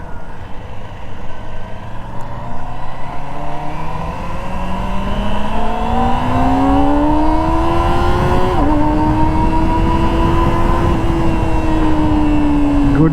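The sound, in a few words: Kawasaki ZX-25R SE four-cylinder motorcycle engine revving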